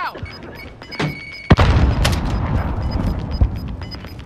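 A frag grenade thrown in Call of Duty Warzone, a few faint clicks and taps, then one sharp, loud blast followed by a long rumbling roar that fades, with a smaller thud near the end.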